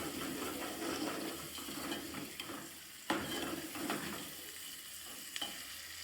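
Tomato chutney stirred in a pan, village home style, gives a steady close sizzle with scraping, stirring strokes throughout and a sharp clack of the spoon midway; no talking.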